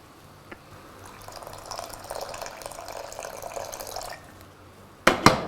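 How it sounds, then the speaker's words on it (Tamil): Water pours steadily into a cooking pan of lentils for several seconds, a soft gurgling stream that stops, followed by a couple of sharp clinks. "பருப்பு இன்னும் வேகிறதுக்கு தேவையான அளவு கொஞ்சம் தண்ணி ஆட் பண்ணுங்க"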